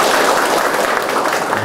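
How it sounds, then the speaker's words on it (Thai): Dense, steady audience applause fills a short stretch at a Thai community gathering welcoming the district chief, loud and continuous with no voices over it. "ปรบมือขอบพระคุณท่านในอำเภอที่ใช้สถานที่"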